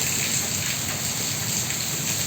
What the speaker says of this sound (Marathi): तिथून असं पाणी धो धो करत कोसळत आहे